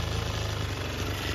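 A Yamaha Razz scooter engine runs at idle nearby, a steady low rumble with a fast even pulse and no break.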